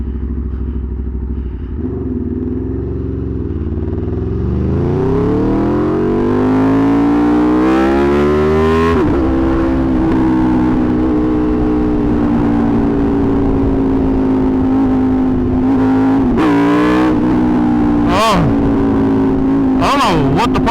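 A 2020 Aprilia RSV4 1100 Factory engine revs up loudly and close by, climbing in pitch over several seconds, then holds a sustained high roar with a few sharp throttle blips.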